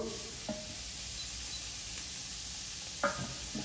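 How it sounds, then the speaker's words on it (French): Bacon lardons of pancetta fry gently in butter for a bœuf bourguignon, giving a steady soft sizzle with a couple of brief stirring clicks near the start and end. "je vais déjà juste faire revenir le lard avec le beurre"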